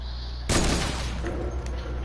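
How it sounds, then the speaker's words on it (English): A burst of sniper fire in an online shooter game: one sharp broadband crack followed by a dense, rumbling decay and scattered smaller pops, set against a steady hum. "Who sniped me?"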